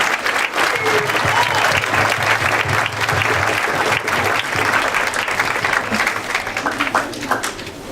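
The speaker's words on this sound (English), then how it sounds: "let's give our students a nice round of applause" A crowd at a school closing ceremony applauds students steadily and loudly for the whole stretch, a dense wash of clapping that thins slightly at the end.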